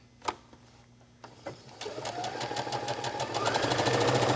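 After a couple of soft clicks, a sewing machine starts stay stitching along a dress edge and speeds into a steady, rapid rhythmic whir that grows louder and continues to the end.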